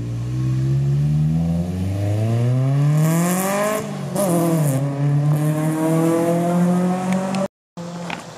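An untuned Honda Civic hatchback with a B20V engine revs hard as VTEC engages, a loud close engine note climbing steeply, dipping on a shift, then climbing again before cutting off abruptly.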